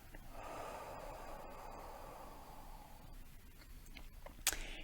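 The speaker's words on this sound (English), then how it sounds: "Breathe in. Breathe out. Breathe in," Deep, slow breathing during a breathing exercise, a faint, airy inhale that fades away, followed by soft clicks and a brief louder sniff at the end.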